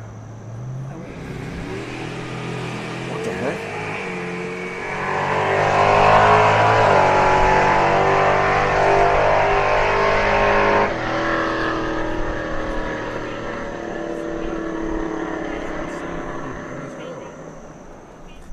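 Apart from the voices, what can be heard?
car engine racing and revving nearby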